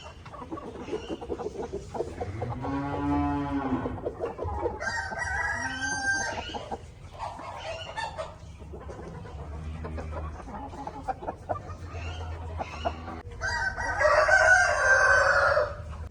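Several Aseel chickens cluck and cackle close by on a small poultry farm, with a rooster crowing in between, loud and continuous, without talk.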